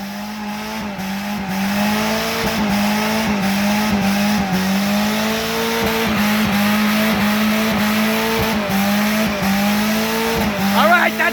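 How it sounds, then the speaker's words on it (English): A Honda Civic engine revs loud and close, climbing then dropping in pitch over and over as it shifts up through the gears, with a brief tire chirp near the end and a voice talking over it. "He's going through the gears, folks."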